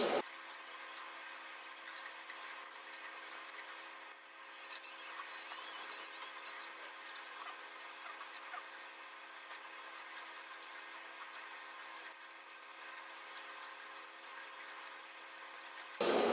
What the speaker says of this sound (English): So then we're going to rinse them all.